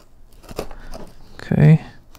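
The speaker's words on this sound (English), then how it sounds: "Cut this box open." A CRK knife cuts open a well-taped cardboard box, a brief close scrape and tearing rip of tape following a few light handling taps.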